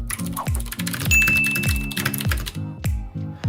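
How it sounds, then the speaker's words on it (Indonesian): Typing on a computer keyboard, a steady run of close, crisp keystrokes at an even pace with short pauses near the end, heard alone without any talking. "So I'm going to type some stuff and I'll show you how I fix a mistake."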